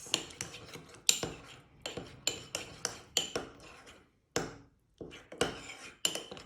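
A spoon mixing a mustard and garlic marinade for ham in a bowl makes rapid, rhythmic clinks and scrapes, close and bright, with a brief pause partway through.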